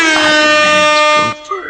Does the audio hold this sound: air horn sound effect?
yes